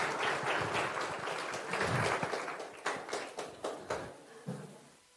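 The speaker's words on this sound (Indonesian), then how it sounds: "Beri tepuk tangan buat penanya-penanya kita." Audience applause for the people asking questions at a campus talk, a dense wash of clapping that thins out into a handful of separate, fading claps.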